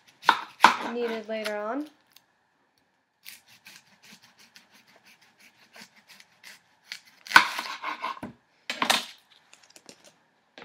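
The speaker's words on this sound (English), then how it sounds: "I'm just going to chop this onion" An onion is chopped with a knife on a board during risotto preparation, giving faint, sparse cutting taps with a few louder bursts later, after a short stretch of talk at the start.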